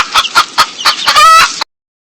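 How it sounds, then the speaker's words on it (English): A hen clucks in a quick series of loud, close, choppy clucks that end in a longer drawn-out squawk before stopping abruptly. "Hen."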